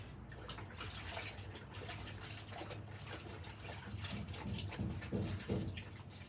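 A tap runs while someone washes their hands at a sink, a soft steady splash of water with light trickling, faint and continuous throughout.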